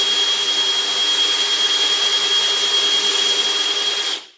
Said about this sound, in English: the Forstner bit goes pretty slow, so I have lots of control